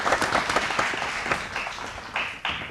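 An audience at a science quiz show applauds, a dense, steady wash of many hands clapping at moderate volume for a few seconds, with no talking.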